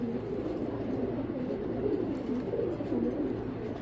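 Grizzle racing pigeons coo continuously nearby, their low throaty calls overlapping in soft rolling bursts against a quiet loft background.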